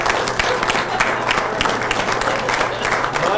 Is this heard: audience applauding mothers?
yes